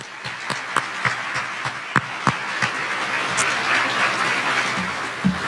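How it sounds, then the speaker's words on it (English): An audience at an awards banquet claps in a steady, moderate round of applause that fills the room, with a few sharper individual claps standing out. "please join me in a round of applause thanking them for their work this year."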